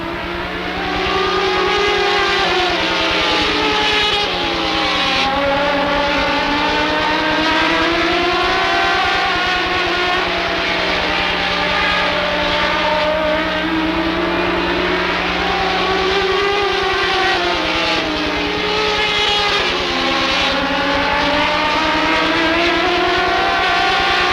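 Race cars roar around Rockford Speedway in an 8-lap heat race, engines howling loudly and continuously, pitch rising and falling as the pack sweeps past, with a steady low drone beneath.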